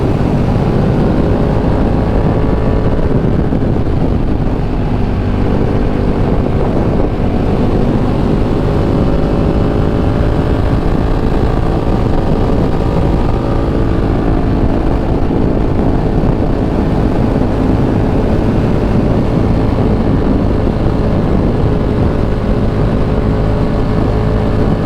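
KTM Super Duke motorcycle carving through canyon roads, its engine droning loud and close throughout with shifting pitch as the rider rolls on and off the throttle, under heavy wind rush and with no talk.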